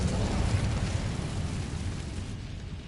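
An Incendio fire spell cast in Hogwarts Legacy, a roaring whoosh of flame with a rumbling, explosive low end that holds steady and then eases off slightly.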